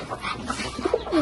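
A pair of pigeons coos softly in a backyard pet enclosure, giving a few low, brief cooing notes close by, with faint background noise and no speech.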